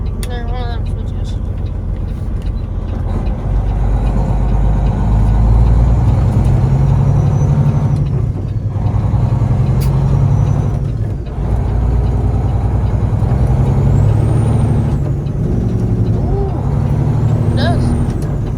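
A Detroit-powered Peterbilt 389 truck runs its Jake engine brake with a loud, continuous rumbling rattle that holds steady throughout, and people talk over it.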